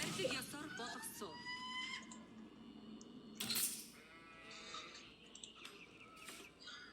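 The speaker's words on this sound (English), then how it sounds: "Okay, good amount of sheep here." Sheep bleat in an Age of Empires 4 match on a prairie map: a few wavering, faint bleats over game background sounds with brief sharp interface clicks.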